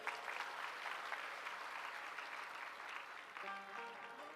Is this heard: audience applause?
yes